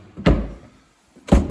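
Wooden drawers under a table-saw storage cabinet in a woodworking shop shut with two solid thuds about a second apart, close and loud, with no talking.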